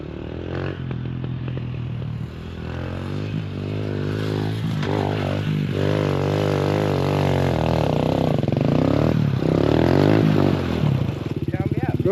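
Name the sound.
Volvo B20 engine revving as gas is applied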